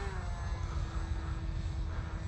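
A Bixler RC model airplane's electric motor drones steadily in a close flyby, a constant buzzing whine with a faint tonal pitch, alone without talk.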